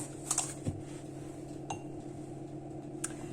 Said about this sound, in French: je vais mesurer 2 verres de farine complète